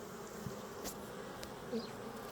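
Honeybees buzz steadily at close range at a hive entrance, a soft continuous drone with a few individual insects flitting past the microphone.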